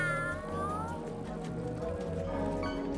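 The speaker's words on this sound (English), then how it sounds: "Listen to the cat" Cat meowing in the Placid Plastic Duck Simulator video game, a drawn-out wavering meow over steady game music and background tones.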